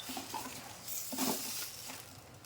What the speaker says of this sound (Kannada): ಈಗ ಸಾಸಿವೆ ಚಟಪಟ ಅಂತ ಸಿಡಿಬೇಕು